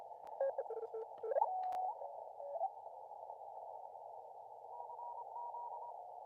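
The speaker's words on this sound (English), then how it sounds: "People are blasting insane contest level Morse code around here." Morse code tones from contest stations crowding a ham radio band on a receiver at a high-altitude camp: a steady pitched carrier with bursts of keyed dits and dahs over it early on, then one tone held continuously, at moderate level with no voices.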